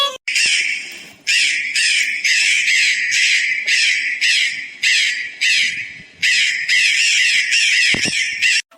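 Crow cawing loudly and close by in a rapid run of harsh, repeated caws, with brief gaps between bursts and a short thump near the end, and no talk.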